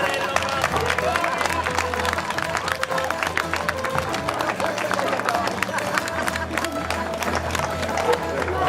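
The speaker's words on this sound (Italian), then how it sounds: "Un applauso a questo poverello." An audience at a San Martino play applauds the actor playing the poor man, sustained clapping from a crowd with some background chatter running under it.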